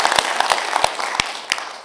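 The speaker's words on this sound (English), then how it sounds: "I would ask for just a small, quick applause, but well intended" Brief, sparse applause from a summit audience on sovereign cloud and security, with scattered sharp claps standing out over a thin ongoing patter that fades within two seconds.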